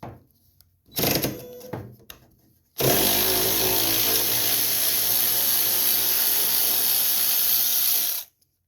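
A power tool, likely an impact driver, spins a 10mm socket to remove a bolt on the right side of a John Deere L110 riding mower: a short whirring burst, then a loud, steady high-pitched whine held for about five seconds.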